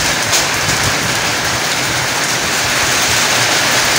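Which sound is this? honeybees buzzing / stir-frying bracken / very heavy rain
very heavy rain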